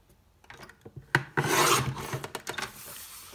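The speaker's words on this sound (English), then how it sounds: "and I'm going to trim it at the edge" Paper card blank trimmed along its edge for a butterfly pop-up card, a close scraping, rasping cut in short strokes that builds into a louder sustained swipe before tapering off.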